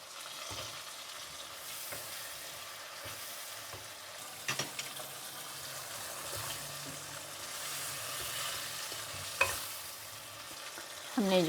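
Potatoes frying and being stirred into roasted masala for an aloo gajar sabzi, a soft, even sizzle throughout with a few scraping knocks of the spoon, fairly quiet and with no talking.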